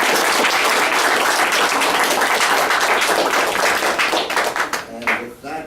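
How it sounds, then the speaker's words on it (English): Loud, dense applause from an audience at a school event, steady for several seconds before tapering into a few scattered claps near the end. "let's give a round of applause"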